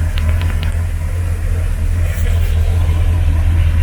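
A 44-year-old 1977 Cougar's engine runs just after starting, a loud, steady low rumble with a faint rough idle, heard up close and alone.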